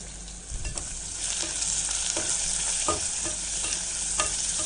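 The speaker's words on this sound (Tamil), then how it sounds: "அந்த வெங்காயம் ப்ரௌன் கலர்ல வதங்கிடணும்" Onions sautéing in a pan for ghee coconut milk biryani, a steady close sizzle with repeated scraping stir strokes throughout, no voices.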